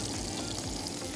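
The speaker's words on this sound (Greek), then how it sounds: "το νου σου στις γαρίδες να μην παραψηθούν" Shrimp fry in a pan for a Greek spetsofai with sausage, giving a dense, steady sizzle and crackle that fills the short stretch at moderate level with no talking.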